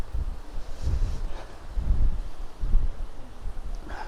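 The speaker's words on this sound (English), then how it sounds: "and it is windy" Gusty wind buffets the microphone on a warm beach walk at Playa Blanca, coming as loud low rumbling bursts that rise and fall, with no talking.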